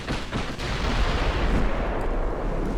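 Heavy battleship guns in the WW2 naval game Ultimate Admiral: Dreadnoughts fire in a dense, continuous barrage of deep rumbling booms and shell blasts, loud and sustained throughout with no pause.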